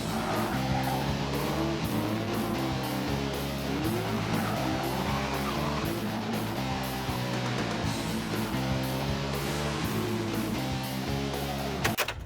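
A black YearOne Bandit Trans Am, the Burt Reynolds Smokey and the Bandit tribute car, cruises with a steady, droning engine note and road rumble that holds evenly throughout, with no talking.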